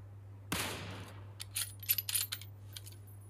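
A Kar98k sniper rifle headshot in PUBG Mobile on an open field, one sharp loud crack with a fading tail, followed by a scatter of short clicks and metallic ticks.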